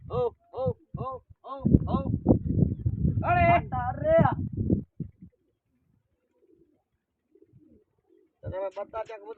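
Pigeons give a quick series of low coos followed by a longer, throbbing burst of cooing, then a quiet pause before another short call near the end.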